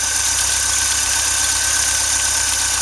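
A Volkswagen Vanagon engine idles steadily up close while warming up, a constant loud hum with a fine, even pulsing rumble and no talk.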